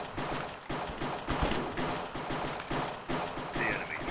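Rapid bursts of small gunfire in a Call of Duty mod for the Minecraft game, loud repeated shots in quick volleys with brief gaps, close and continuous throughout.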